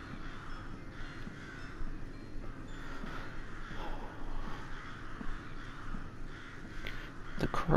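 Crows caw repeatedly in the horror video game Rise of Insanity, the harsh calls spread over a constant low ambient drone, moderately loud and with no speech.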